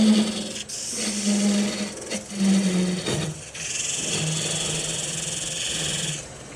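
Wooden pepper mill blank spinning on a lathe while a cutting tool steps it down in diameter: a steady raspy scraping over the motor's low hum, broken by brief pauses as the tool lifts and re-engages.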